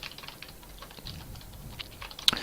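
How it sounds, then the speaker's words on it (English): Fingers tap out an activation code on a computer keyboard, a quick steady run of light clicking keystrokes close by, ending with one sharper press, with no voices. "So I'm going to type in my activation code"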